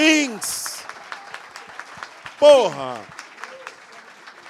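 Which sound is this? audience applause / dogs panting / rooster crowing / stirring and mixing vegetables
audience applause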